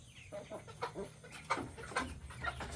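Americana chickens on a roost give soft, close clucks in short irregular bursts over a quiet farmyard background, no voices present.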